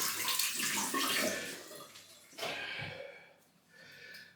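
Tap water runs steadily into a sink to warm a Parker Variant adjustable safety razor, a broad rushing splash that dips briefly and resumes, close and alone.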